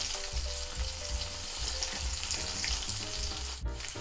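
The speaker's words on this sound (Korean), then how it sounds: "전부 다 뒤집어서 반대쪽도 노릇노릇하게" Tofu pieces fry in a pan over low heat, giving off a continuous close sizzle and crackle. Soft clinks from turning the pieces cut in now and then, and no voices are heard.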